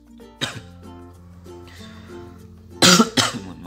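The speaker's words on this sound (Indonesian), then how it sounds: "Sedikit batuk." Two sharp coughs from one person close by, near the end of a quiet stretch during laptop repair work, one short burst quickly followed by another.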